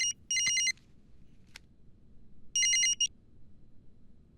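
A telephone rings in two trilling bursts, with a short pause between them, over a faint background hum in a quiet indoor scene.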